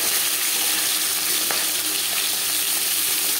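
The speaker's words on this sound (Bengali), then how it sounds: "মাছ একটা সাইড ভাজা হয়ে গেলে অপর সাইডটা উল্টে দেবো।" Pieces of silver carp fry in a pan of oil, giving a loud, steady, close sizzle with crackling spits and no pauses.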